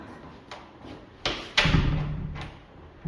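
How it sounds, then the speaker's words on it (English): A door in a boutique guest room with en-suite at the Blue Dolphin in Belize is accidentally locked: a few soft knocks and handle clicks, then a sharper latch clunk with a short rattle, close and fairly clear, no talking. "Oops, I've just locked that door by accident."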